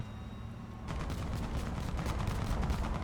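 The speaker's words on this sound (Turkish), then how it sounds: "BMP bizim Christian'ı vuruyor" A BMP armored vehicle firing in a military shooter game in a city map, rapid cannon bursts that kick in after a low rumbling lead-in and carry on as a continuous stuttering barrage.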